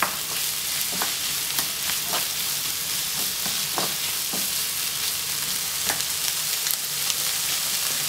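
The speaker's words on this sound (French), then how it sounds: "je laisse colorer mes oignons pendant environ 5 minutes" Sliced onions with a generous pinch of sugar fry and caramelize in a pan, a steady broadband sizzle punctuated by regular scraping strokes of stirring, close and continuous with no voices.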